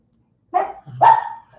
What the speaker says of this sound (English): Yeah, go outside and bark. If you need to bark, go outside.